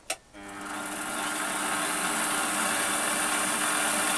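A metal lathe boring out a hole, starting with a sharp click and then settling into a steady, continuous machine whine and cutting hiss that holds at a constant level throughout, with no talking.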